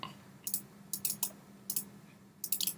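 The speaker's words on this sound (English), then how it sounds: "So you just double click on that." Computer mouse button clicked repeatedly in quick pairs, crisp close double-clicks in a quiet room with a low hum underneath.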